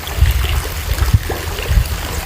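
River water trickles through a hole into a well, a steady low gurgling flow with soft splashy pulses, close and continuous throughout.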